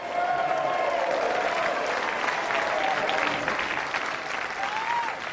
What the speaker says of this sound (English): Please give another round of applause to Jason and Lisa Porzol.